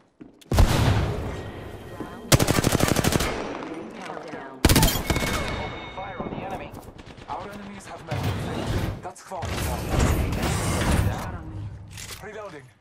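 Repeated bursts of automatic gunfire and heavy explosions from a battle royale shooter video game, loud and sustained across the whole stretch, with a game announcer's voice speaking between the volleys.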